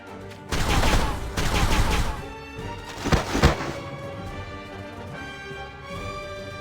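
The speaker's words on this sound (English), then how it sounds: "Snipers, fire!" Sniper rifles fire in volley within the fantasy battle game War of the Visions: Final Fantasy Brave Exvius, two dense bursts of overlapping shots followed by a sharper pair of cracks, then a fading rumble.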